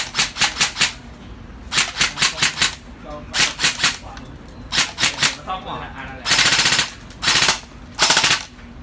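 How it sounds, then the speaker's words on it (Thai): An E&C M4 airsoft gun fires indoors in a shop, with rapid clattering bursts of several shots each, loud and close, separated by short pauses. "เดี๋ยวเราจะมาลองเก็บให้ดูลองยิงให้ดูวัดความแรงให้ดูนะครับ"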